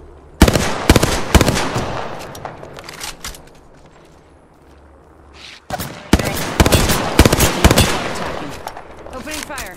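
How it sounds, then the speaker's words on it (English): Video game gunfire in bursts of rapid shots, loud and close, with a lull in the middle before heavy firing resumes, and voice lines in the mix. "Opening fire."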